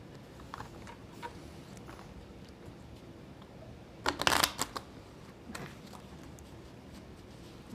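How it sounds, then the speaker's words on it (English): A deck of playing cards is shuffled at a table, a dense burst of riffling near the middle followed by a shorter flutter, with quiet room noise around it and no talk during the shuffle. "so shuffle the cards"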